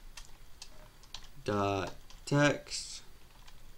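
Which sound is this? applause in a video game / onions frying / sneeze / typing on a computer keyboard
typing on a computer keyboard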